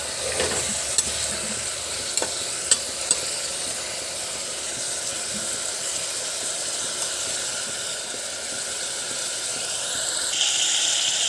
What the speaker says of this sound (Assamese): এতিয়া আমি মাংসখিনি ভালকৈ ভাজি ল'ম ইয়াত।